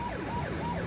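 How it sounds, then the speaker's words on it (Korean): An ambulance siren speeds along a road toward an accident scene, wailing in loud, close sweeps that rise and fall, heard alone with no talk. "구급차가 사이렌을 울리며 사고 현장으로 달려갑니다."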